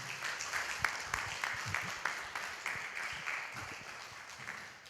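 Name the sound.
congregation applause at worship service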